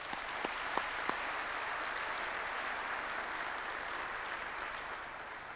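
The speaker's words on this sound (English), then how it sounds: "Let's give the band another round of applause" Sustained applause from an audience at a military change of command ceremony, honouring an army band: a broad, even roar of many hands, a few sharper claps standing out near the start.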